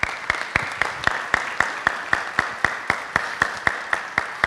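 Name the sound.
audience applause for young people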